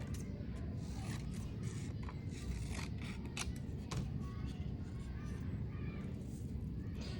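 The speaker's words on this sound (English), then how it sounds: "I'll cut a little bit of the extra paper off." Scissors trimming excess paper from a portrait collage, a few sharp snips and paper rustles close by over a steady low background hum.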